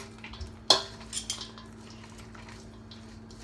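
Coleslaw being scooped from a mixing bowl into a serving bowl, with one sharp clink of a utensil against the bowl followed by soft scraping and shuffling sounds, close and fairly quiet.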